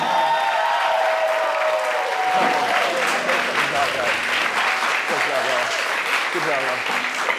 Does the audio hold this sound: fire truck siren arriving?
no